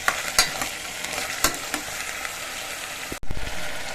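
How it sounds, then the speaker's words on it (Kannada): A spoon stirs ingredients through hot oil while making a special Papi Reddy pulao, giving a steady frying sizzle punctuated by a few sharp scraping knocks against the pan, close and alone. "ಆಯಿಲ್ಗೆ ಸೇರಿಸೋಣ ಸೇರಿಸಿ ಒಂದು ಸ್ವಲ್ಪ ಸ್ಪೂನಲ್ಲಿ ಮಿಕ್ಸ್ ಮಾಡೋಣ"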